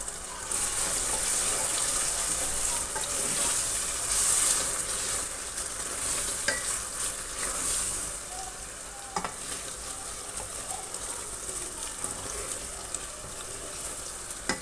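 Spices sizzling steadily in hot oil while potato and ridge gourd fry for aloo tori, with occasional stirring clinks, a continuous close hiss throughout.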